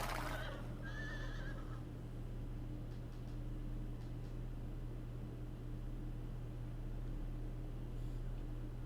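Horses in an anime scene neighing and running on sand, a short whinny near the start over a steady, noisy rumble of hooves and wind that continues throughout, with faint ticks scattered through it.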